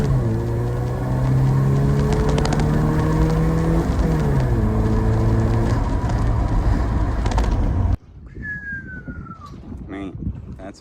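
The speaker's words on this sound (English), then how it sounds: "you better burn out in reverse than first gear" A Toyota car doing a burnout in reverse, its engine droning loud and steady with a shifting pitch for several seconds before cutting off abruptly, leaving quieter outdoor noise with a faint chirp.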